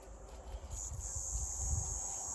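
A cicada-like insect chirps outdoors with a steady, high, continuous buzz that swells slightly partway through, over low rumbling background noise.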